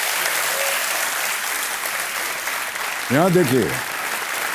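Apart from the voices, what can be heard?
studio audience applause on KBC show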